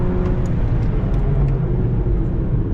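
Car driving on a race track, running on Nankang AR1 or NS2 tyres, a loud continuous engine drone and road rumble heard from inside, with no distinct braking sound standing out.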